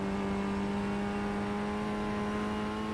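Formula Ford race car lapping the Alton circuit, its engine a steady loud droning whine heard from on board, held at nearly constant revs for the whole stretch.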